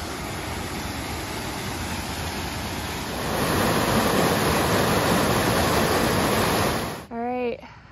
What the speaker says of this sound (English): Pretty cool waterfall next to our camp.